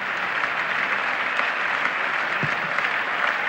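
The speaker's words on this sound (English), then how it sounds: "And well-merited applause from the spectators and the English players." Steady applause from cricket spectators and English players at a 1976 England v West Indies Test match at The Oval, a dense even wash of clapping lasting throughout without pause.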